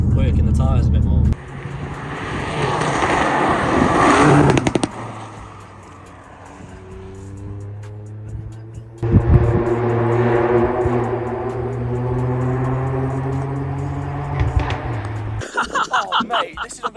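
A Ford Fiesta ST Mk8 three-cylinder engine drones steadily while driving, with clear rising harmonics as it accelerates through the gears, heard from inside the car under occasional talk.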